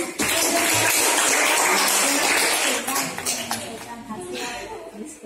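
An audience applauds after a group presentation in a classroom lesson, a burst of clapping that is strongest at first and then tapers off, with voices mixed in.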